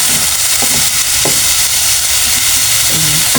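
Bitter gourd (ampalaya) sizzles steadily in a hot pan with meat, a continuous frying hiss broken by a few brief stirring clatters.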